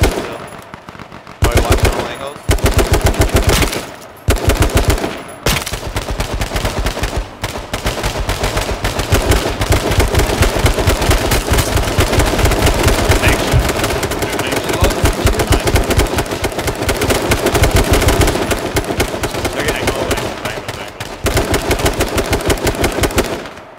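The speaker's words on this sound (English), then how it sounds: "we're getting shot from north northeast now" Sustained bursts of rapid automatic gunfire from a shooter video game crackle loud and close for about twenty seconds, broken by brief gaps.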